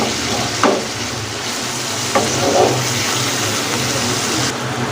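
Semiya vermicelli simmers in a pan with added water, giving a steady bubbling sizzle with a couple of brief stirring scrapes, close and moderately loud, with no talking.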